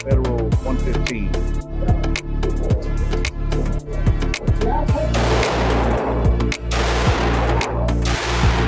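Rapid string of loud, close pistol shots from a Springfield Hellcat Pro with a precision barrel firing Federal 115 grain ammunition at 7 yards, sharp reports every fraction of a second with a denser volley in the second half.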